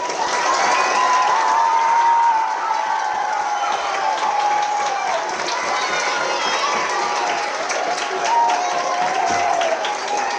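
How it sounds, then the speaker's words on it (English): An audience at a school Veterans Day ceremony gives a steady, continuous round of applause mixed with some cheering, filling the room at an even level throughout. "please rise and give our veterans here, our American heroes, a big round of applause"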